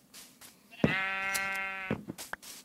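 A single sheep bleats in the Minecraft video game, one clear, wavering baa lasting about a second, loud and close, with faint soft sounds before and after.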